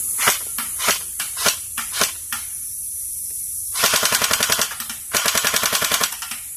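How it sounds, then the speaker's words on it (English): An LCT LK-53 A3 airsoft electric blowback rifle fires a run of single shots, then two sustained bursts with a heavy, rapidly reciprocating bolt, close and loud. "Electric blowback, so the actual bolt reciprocates when you fire it quite heavily."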